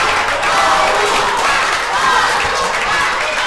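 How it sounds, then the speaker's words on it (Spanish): Crowd at a lucha libre anniversary show applauding as wrestlers leave the ring, a steady wash of clapping and crowd noise with some voices mixed in. "se van entre aplausos después de toda la polémica"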